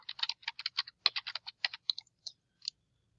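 Typing on a computer keyboard in quick, light clicking bursts that slow to a few scattered keystrokes at the end, heard up close in a quiet room.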